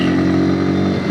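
A Bajaj Pulsar P150 with a 150cc single-cylinder air-cooled engine revs steadily and loudly up close, a sustained buzzy engine hum with no speech.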